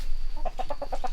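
Chickens cluck inside a greenhouse: a quick run of about six short, close clucks over a low background rumble.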